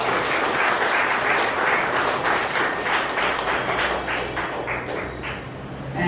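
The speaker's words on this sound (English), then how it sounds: "Let us give them a big hand of applause." Loud, dense clapping from a large audience at a spiritual gathering, sustained at an even level and tapering slightly toward the close.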